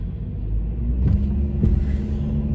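A car engine rumbles steadily from inside the cabin while driving, a low continuous drone with two brief thumps or bumps partway through and no talking.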